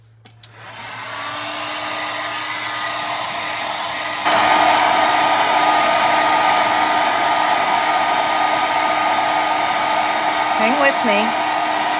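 A hair dryer blows steadily on a verdigris patina craft piece coated with mica and glaze, a loud continuous whir that steps up in power partway through, with a brief word spoken over it near the end.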